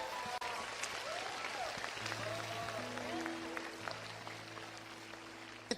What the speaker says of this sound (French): Offrez au Seigneur une puissante ovation d'applaudissements.